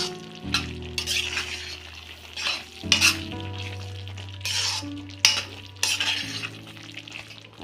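A metal spoon stirs jaggery-sweetened gudanna in a pan, giving repeated scraping strokes and soft clinks over a low simmering sizzle, close and fairly loud, with no talking.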